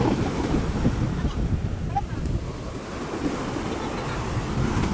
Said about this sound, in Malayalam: ഇതാണ് ഗൈസ് കടൽ